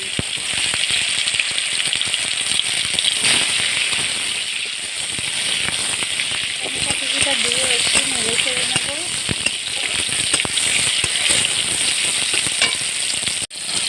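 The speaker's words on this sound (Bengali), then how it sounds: "এবারে তেলের মধ্যে আমি পাঁচ ফোড়ন দিয়ে দিচ্ছি" Panch phoron spices crackle and sizzle in hot oil in a village kitchen, a dense, loud, continuous frying hiss with rapid popping and rattling throughout, ending with a sharp clack.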